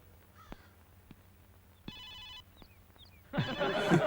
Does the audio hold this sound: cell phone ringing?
yes